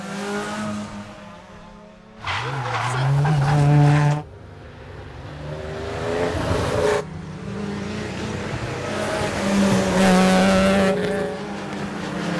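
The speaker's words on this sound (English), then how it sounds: "Nico Higgs and Gert Nienaber misjudged a rising left-hander and binned their Toyota" Toyota rally car at a tarmac rally skidding and crashing on a rising left-hand bend, with roaring engine and tyre noise in loud surging bursts, close and intense, with no voices.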